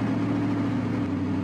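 A steady pickup truck engine in Farming Simulator 2013 idles at close range, a low, even drone with a faint shift in tone partway through, no voices.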